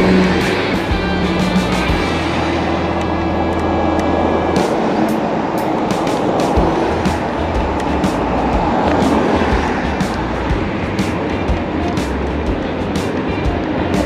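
Road traffic heard from a bicycle on a busy street, a steady, loud wash of engine and tyre noise from cars passing close by, with no voices.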